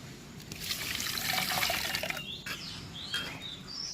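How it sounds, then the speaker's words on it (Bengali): Lentils being rinsed in water, a close splashing and swishing of water with some trickling, fairly quiet and steady. "ডালটা আমি ধুয়ে নিচ্ছি।"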